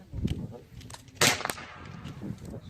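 Air guns fired at an outdoor shooting event in Bursa, with one sharp crack standing out among softer pops and knocks, mid-distance, with people chatting in the background.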